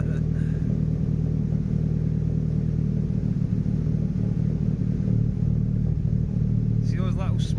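Nissan Pulsar GTiR engine idling after a restoration, a steady low rumble with uneven exhaust burps from a slight misfire, heard close and continuous, with a voice talking briefly near the end.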